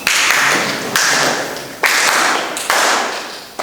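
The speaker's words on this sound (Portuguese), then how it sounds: "Depois tem as palmas." A worship congregation claps along to a song in loud, evenly spaced bursts about once a second, each crisp hit followed by a brief ringing decay.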